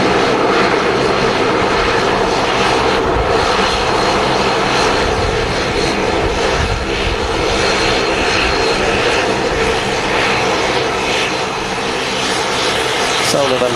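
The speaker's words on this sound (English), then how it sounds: "Sound of them props moving." A Flybe Dash 8 turboprop at Manchester Airport, with a loud, continuous, close propeller and engine drone that holds steady throughout amid airport background noise.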